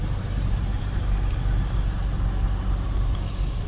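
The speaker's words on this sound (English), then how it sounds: "Yeah, truck's working hard." A truck engine laboring under load, a steady low rumbling drone with a constant heavy hum, close and unbroken throughout, with no voices.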